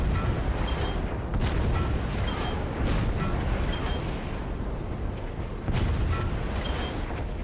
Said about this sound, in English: Howitzer, enemy-based howitzer retaliation.